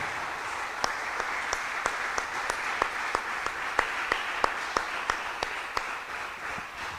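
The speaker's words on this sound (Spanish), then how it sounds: "quiero darle gracias a Dios con este aplauso por todos ustedes" A church congregation applauds steadily as a dense wash of clapping, with a few distinct nearby claps standing out sharply above the crowd at a regular pace.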